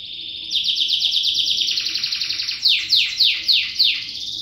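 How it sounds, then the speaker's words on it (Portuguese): A pet bird sings in the dark in Fortaleza, Brazil, a close, loud run of rapid trilled whistles that ends in several sharp descending notes. "Quem está cantando assim também no escuro aqui é o Cenourinha."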